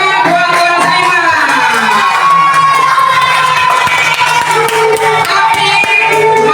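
A classroom of children cheers and shouts together in a loud, continuous burst, with scattered clapping mixed into the noisy crowd.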